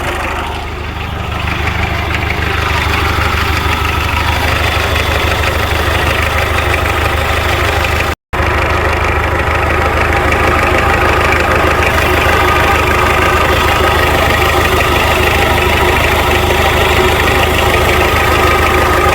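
Chopped Mitsubishi Pajero with a 4D56T turbo-diesel engine idles loud and close, a steady rough clatter with a strong airbox drone throughout and one very brief cut partway through.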